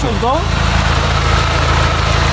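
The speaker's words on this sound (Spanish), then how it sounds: "nos acaba de visitar un Suru nada más y nada menos que con turbo" A turbocharged Nissan Tsuru car idling close by, a loud steady low rumble, with a brief voice at the start.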